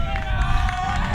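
Spectators cheer on the Toronto 6ixers at the 2018 World Ultimate Club Championships women's ultimate frisbee match, a crowd roar under close commentary.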